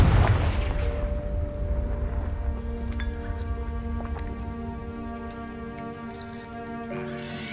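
A Confringo fire spell explodes in the Hogwarts Legacy video game, a loud booming blast at the start that rolls into a long fading rumble beneath sustained tonal game music, with a few sharp cracks along the way.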